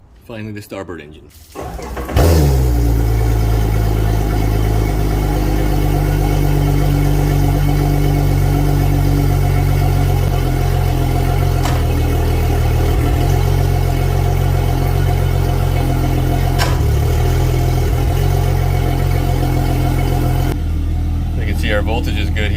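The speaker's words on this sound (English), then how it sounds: "finally the starboard engine." The starboard engine of a Regal 38 XO boat starts up and runs steadily with a deep, continuous rumble, idling loudly close by before cutting off near the end.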